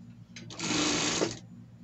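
A sewing machine stitches a seam joining ribbed knit fabric, a brief loud whirring run of about a second that starts with a couple of short bursts and then stops.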